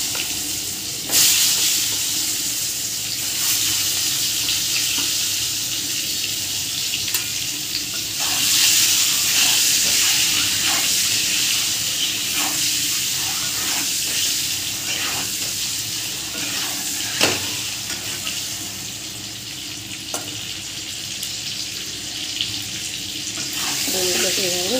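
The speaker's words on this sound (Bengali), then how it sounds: "ডিমগুলোকে এভাবে ভেজে তুলে নেব।" Eggs fry in hot oil seasoned with salt and turmeric, a steady broadband sizzle running throughout with occasional sharper pops and spatters, close and fairly loud, no talking.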